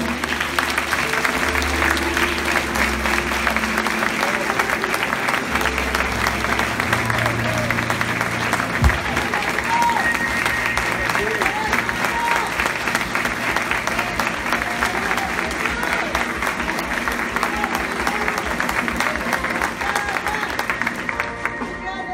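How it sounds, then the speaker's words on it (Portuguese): A church congregation applauds together at a Pentecostal pastor's day service, steady sustained clapping filling the room for over twenty seconds, with low organ or keyboard tones sounding underneath. "Eu gostaria que a igreja desse uma salva de palmas para Deus em homenagem à vida dele."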